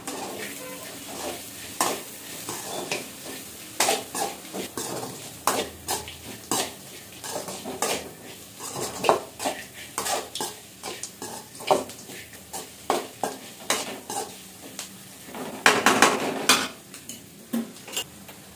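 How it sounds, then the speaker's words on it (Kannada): A spiced egg dish with crushed kasuri methi is stirred in a pan: steady scraping and clinking of a utensil against metal, with a soft sizzle beneath and no talking. "ಇವಾಗ ಇದನ್ನ ಚೆನ್ನಾಗಿ ಮಿಕ್ಸ್ ಮಾಡ್ಕೊಳ್ಳೋಣ."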